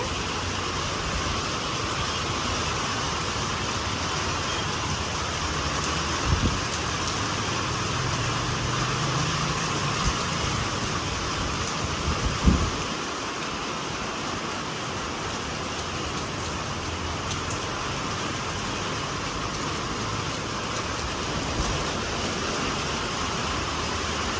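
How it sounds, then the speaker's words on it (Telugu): Rain falls steadily over Kadapa as a broad, constant hiss that fills the whole stretch, with a couple of brief low thumps near the middle and no voices. "అప్పుడే వర్షం అయితే వచ్చేస్తుంది"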